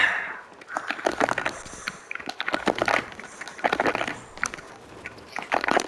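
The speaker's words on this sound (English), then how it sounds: "Buttons on my controller being mashed" Game controller buttons are mashed rapidly while playing Fortnite, giving a dense run of close plastic clicks and rattles in irregular bursts.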